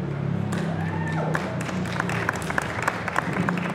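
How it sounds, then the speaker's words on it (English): Audience applause at a Global Entrepreneurship Week 2017 proclamation event in Bermuda, a steady wash of clapping hands lasting several seconds with sharper individual claps standing out. "That is worthy of applause."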